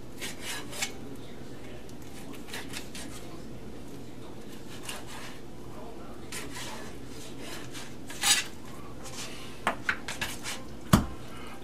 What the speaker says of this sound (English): I'm going to now trim the ribs into individual serving pieces